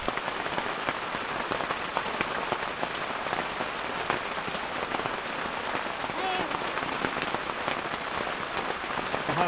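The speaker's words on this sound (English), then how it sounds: "It's really starting to come down out there. We got a bad storm coming in about 5 minutes" Heavy rain from a torrential storm drums steadily on the canvas of a DIY wall tent, a dense, continuous close-up patter with no letup.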